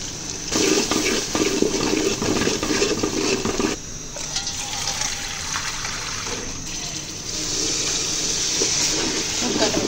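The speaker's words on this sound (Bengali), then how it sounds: "পানি দিয়ে দিলাম।" A strong, steady stream of water pours continuously into a cooking pot of turmeric and salt for bhuna khichuri, loud and close, with a slight change in tone partway through.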